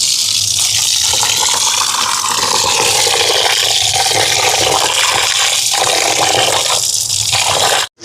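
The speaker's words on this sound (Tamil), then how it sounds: "அரிசியை கழுவி எடுப்போம்" Steady loud rush of running water as Seeraga samba rice is rinsed under a flowing stream, continuous for several seconds before cutting off abruptly.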